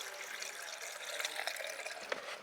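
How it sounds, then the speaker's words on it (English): Washer fluid glugging and splashing steadily as it is poured from a bottle into the windshield washer reservoir of a BMW 335i, a continuous close liquid pour with no talking. "I am gonna fill up the washer fluid"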